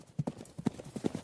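Galloping horse hooves beat a rapid, uneven clip-clop rhythm, close and fairly quiet, with a faint whinny-like undertone and no voices.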